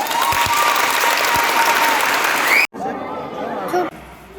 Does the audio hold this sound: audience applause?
yes